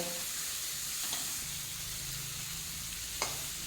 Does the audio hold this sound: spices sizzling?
yes